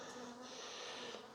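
Bees hum and buzz around an open beehive during a late-season inspection, a faint but continuous swarm drone with occasional closer fly-bys, no speech.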